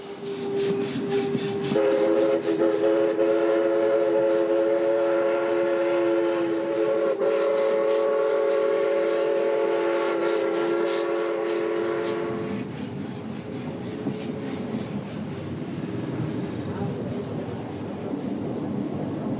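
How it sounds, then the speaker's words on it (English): The Tren Crucero steam locomotive in the Ecuadorian Andean highlands gives a long, loud steady whistle over rumbling railcars, then the whistle fades and the rolling rail clatter continues alone. "On this section of the route, the Tren Crucero always uses a steam locomotive."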